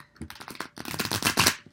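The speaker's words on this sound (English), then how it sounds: "I want to make sure that we get these shuffled good, mixed up really good." A deck of playing cards is riffled by hand, a quick flurry of crisp close-up flicks that builds to a dense burst before stopping.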